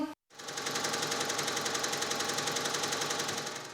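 An industrial sewing machine runs steadily in a clothing workshop, with a rapid even mechanical rattle of the needle that starts after a brief pause and continues at constant speed, close and prominent.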